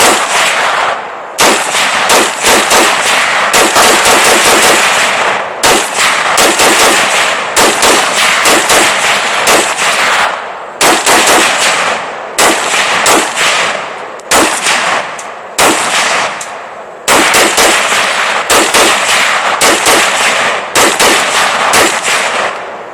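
An SKS rifle fired from a 35-round ProMag magazine, loud sharp shots in quick bursts separated by short pauses, repeating for the full length with no talking.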